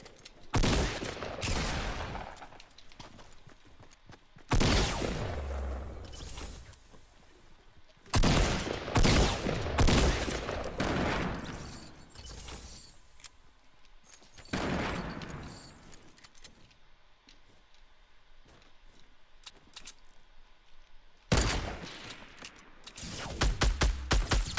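Gunfire in the Fortnite video game, repeated bursts of rapid shots in loud clusters separated by quieter gaps, with metallic rattling over the shooting.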